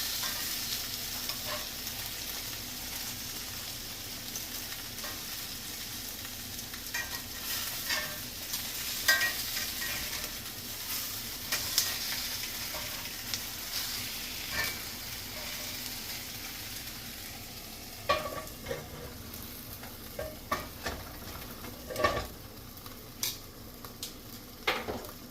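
King oyster mushroom steaks searing in a pan, steady close sizzling with intermittent scraping and stirring clicks of utensils, continuous throughout.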